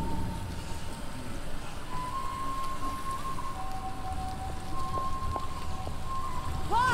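Steady rain falls in the zombie survival game Dead Island: Riptide, a dense, continuous hiss of drops hitting surfaces close by, with faint tonal game sounds ringing through it and no talking.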